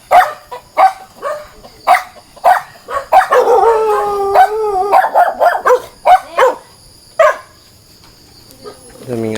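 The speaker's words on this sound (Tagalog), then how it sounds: "Daming aso mga guys." Many dogs at a house barking and howling together, repeated sharp barks in bursts with a drawn-out howl in the middle, close and loud, with a person talking now and then.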